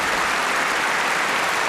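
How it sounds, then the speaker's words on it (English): A short burst of applause, dense even clapping from many hands, steady and moderately loud throughout without voices. "Cue and- applause."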